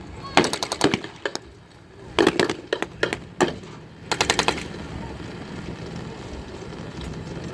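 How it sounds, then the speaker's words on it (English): A .50 caliber anti-aircraft machine gun mounted in the rear of a half-track fires at a live wartime re-enactment show, in several sharp bursts of rapid shots with short pauses between, fairly close, over a steady outdoor background. "there's a half-track with a anti-aircraft gun mounted in the rear, 50 caliber gun"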